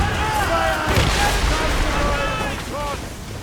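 Ship cannons firing in a naval battle in the video game Assassin's Creed Rogue, a heavy boom amid rumbling and whistling effects, with voices shouting over the din.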